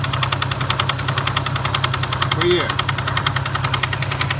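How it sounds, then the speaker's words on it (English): The wobbling radiator fan of an Infiniti G35 drones in a steady pulsing whir with a rapid rhythmic beat over a low engine hum. It sounds close and loud, and a voice speaks briefly. "The radiator fan's wobbling."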